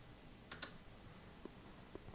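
A single Enter key pressed on a computer keyboard during a NetBSD 9.2 installation, a couple of faint, close clicks separated by short pauses in a quiet room.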